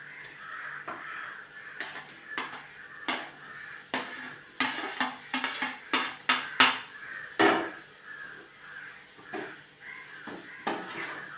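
Fried fish being added to fish pickle and stirred in a pan: metal clanks and scrapes of a spoon against the pan come in uneven bursts, close by, with crows cawing in the background.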